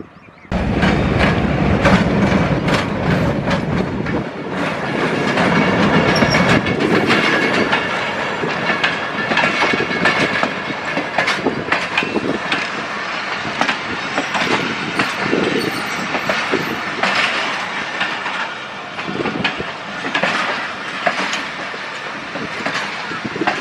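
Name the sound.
Millat Express passenger train passing, Faisalabad railway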